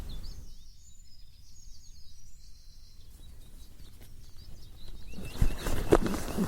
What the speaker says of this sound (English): Just listen to the birds too.